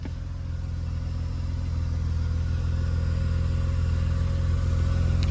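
A Mercedes 190E with the 2.6 engine idles steadily up close, a smooth low rumble that holds an even rhythm and swells slightly louder over a few seconds.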